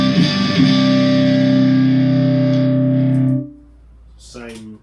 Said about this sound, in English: This is like a drive tone on the neck pickup.